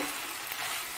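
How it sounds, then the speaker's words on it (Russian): Meat browns in a pan over raised heat while being prepared for potato pancakes: a steady, soft, even sizzle and crackle of frying with no talking. "Добавляю огонечка и слегка подзолочу."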